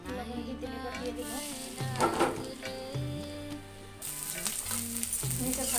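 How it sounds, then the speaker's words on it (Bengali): Salted shrimp hit hot oil and fry with a continuous loud sizzle and spatter, a brief louder burst near the middle, and a faint tonal background throughout. "এবার চিংড়ি মাছগুলো লবণ দিয়ে তেলে দিয়ে দেব।"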